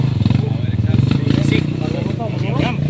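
A motorcycle engine revving hard and labouring on a mountain trail, loud and close, with people talking over it.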